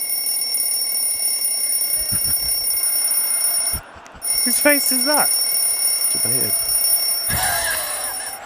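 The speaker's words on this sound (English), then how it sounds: "That delicate little bell sound wouldn't wake anybody up" A tiny handbell rung several times in quick bursts by a producer at an esports event, bright and tinkling, mixed in with talk and room noise.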